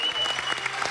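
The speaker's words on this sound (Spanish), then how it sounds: "Alessandra, le vamos a dar un gran aplauso a esta pareja." Brief burst of studio audience applause on a Spanish-language television talk show, fairly loud and dense, with a voice briefly audible over the clapping.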